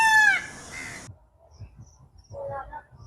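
A peacock gives a loud, wailing call in the Aam Khaas Bagh garden at Sirhind. The call comes once at the start, followed by quieter rustling and a softer distant call.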